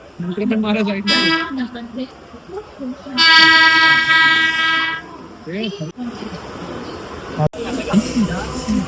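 Train horns blare in loud bursts among the rumble and clatter of a passing Mumbai local train, with people talking in between.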